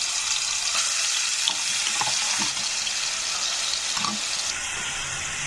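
Ground onion paste hits hot oil in a pan for a crab curry, a bright continuous hiss and sizzle that stays loud and steady throughout with faint crackles, no talking.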